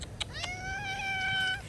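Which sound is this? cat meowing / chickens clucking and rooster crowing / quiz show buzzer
cat meowing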